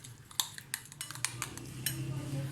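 A spoon mixes mustard paste with chili sauce in a bowl for a chicken and vegetable sandwich filling, giving faint, irregular clinks and soft scrapes against the dish, quiet and close.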